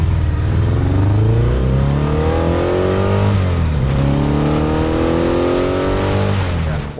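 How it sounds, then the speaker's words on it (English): A 1979 Laverda Jota 3-cylinder 1000cc motorcycle engine revs hard through two rising sweeps, loud and close with a rough, deep growl and no talking. "Nothing sounds like these Laverda 3-cylinder 1000cc motors"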